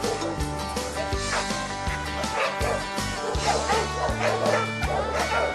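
A pit bull barks in repeated deep woofs and yips, loud and close, over a dense, continuous background of noise and music.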